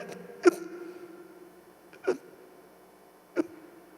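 Three sharp hiccup-like gulps imitated by a voice, spaced more than a second apart, each a brief close-up catch in the throat over a quiet background.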